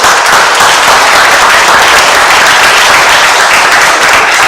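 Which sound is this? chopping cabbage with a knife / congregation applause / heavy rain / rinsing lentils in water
congregation applause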